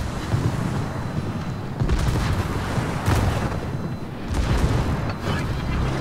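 World of Warships naval combat, with warship guns firing in a steady, roaring barrage. Several heavy booms swell and fade over a thick, continuous rumble.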